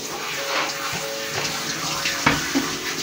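A shower spray washes a dog, giving a steady hiss of running water with splashes and small knocks close by.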